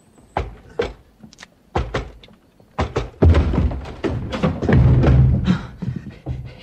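A door in a radio play is battered with a series of heavy thuds and thumps, sparse at first and then building into rapid, crashing blows as it gives way, with no voices.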